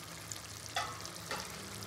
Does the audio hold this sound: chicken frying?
yes